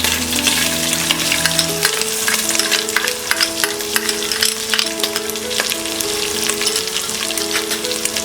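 Onions fry in a pan for dalia khichdi made with broken wheat and moong dal, giving a steady, loud sizzle with stirring crackles under a continuous melodic background tune.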